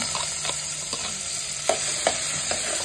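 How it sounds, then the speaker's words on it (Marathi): Chopped onion sautéing in a pan for a stuffed crab curry, with a steady sizzle and a few distinct scrapes of a spoon stirring at intervals, close and alone with no talking. "तर मम्मी कांदा कोमवते"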